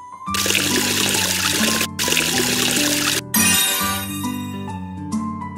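Cartoon water splashing and pouring in two long bursts as a character rinses soap off its face, loud over an upbeat children's music backing that continues alone afterward.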